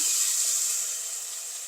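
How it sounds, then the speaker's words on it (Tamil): Ground masala paste hitting onions frying in a pan for a brinjal vegetable biryani, giving a steady bright sizzle that fades slightly over a short stretch, with no talk. "அரைச்ச மசாலாவையும் நான் இதுக்குள்ளே சேர்க்குறேன்"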